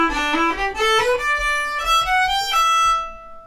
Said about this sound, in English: Without ornamentation, it would sound like this.